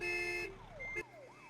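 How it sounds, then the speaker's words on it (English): A truck's car alarm in the video game American Truck Simulator, sounding as a steady electronic tone that shifts into rising and falling siren-like sweeps, loud and close for a brief moment. "did I set off the alarm?"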